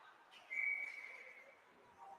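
Referee's whistle at a 14U AA youth ice hockey game, one short sharp blast fairly faint and distant over arena noise, then fading into the rink's background hum.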